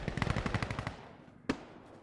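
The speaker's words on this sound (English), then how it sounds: "Let me try this Mosin with the grease bolt" Gunfire in Insurgency Sandstorm with a Mosin rifle fitted with a grease bolt: a quick run of rapid shots, a short lull, then one sharp, loud single crack that rings out and fades.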